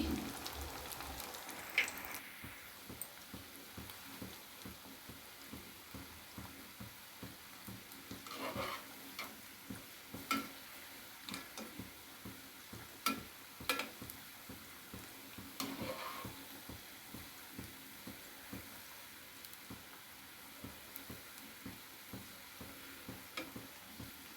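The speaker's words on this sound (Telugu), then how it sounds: "బ్రౌన్ కలర్ వచ్చినంత వరకు బూర్లు వేయించుకోవాలండి" Sweet potato burelu frying in hot oil, a continuous crackling sizzle with scattered pops and ticks, fairly faint and steady throughout, with no talking.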